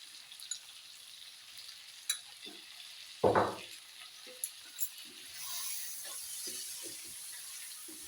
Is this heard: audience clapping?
no